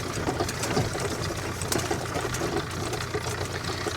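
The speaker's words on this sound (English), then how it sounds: "That's an International B275 1960 diesel." A 1960 International B275 diesel tractor runs steadily at mid distance while raking hay outdoors, its continuous rattling engine drone holding an even level throughout.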